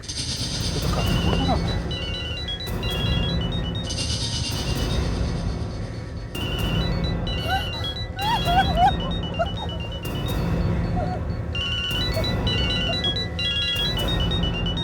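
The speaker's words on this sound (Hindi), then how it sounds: "इसी बैग में से मोबाइल की आवाज आ रही है सर।" A mobile phone rings from inside a bag, its repeating electronic ringtone pattern cycling steadily over loud, rumbling background noise, with brief talk in places.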